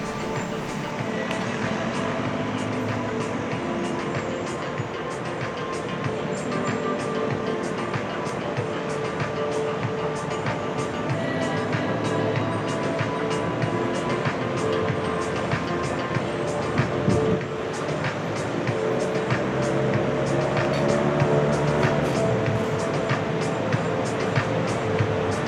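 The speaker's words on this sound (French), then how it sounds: "c'est la circulation puis le bruit d'une grande ville, avec beaucoup de motos" Dense, steady big-city traffic noise in Greece with many motorbikes, engines droning and passing vehicles, a continuous busy street roar heard from a ninth floor, with faint voices mixed in.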